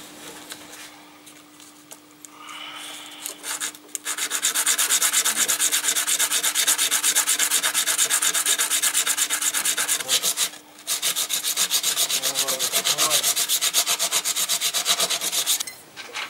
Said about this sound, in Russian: Палку зашкурил, загладил.